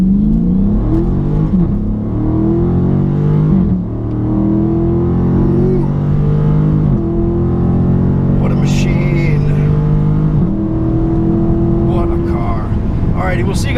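A 2017 Dodge Charger SRT 392 with the 6.4-litre V8 pulls hard in first gear, its loud engine note climbing in pitch, dropping at a shift, then climbing again under steady talk.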